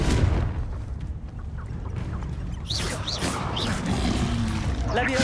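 A Confringo spell in Hogwarts Legacy bursts with a deep booming rumble that carries through the whole moment, with crashing debris and a voice heard over it.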